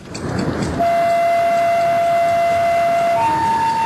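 A train pulls out of New Delhi railway station in dense winter fog, its long steady horn or siren tone sounding loudly and continuously over a low rumbling background, shifting pitch near the end.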